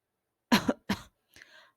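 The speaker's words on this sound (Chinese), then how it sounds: "让我们假装正在咳嗽" A person fakes a cough: two quick close coughs followed by a softer throat-clearing sound, alone against silence.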